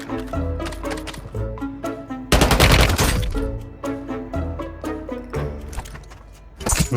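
Bursts of rapid gunfire in an Activision shooter game, loud repeated shots with tracer rounds in clusters over a steady musical background hum.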